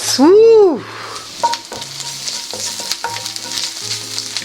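Garlic sautés in a pan with a soft, continuous sizzle. A loud, rising-and-falling vocal exclamation briefly covers it at the start, and intermittent voiced tones follow over the frying.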